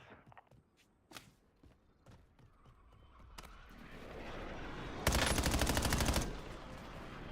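Video game gunfire: scattered single shots and footsteps at first, then a swelling roar that breaks into a loud, sustained automatic burst before easing off.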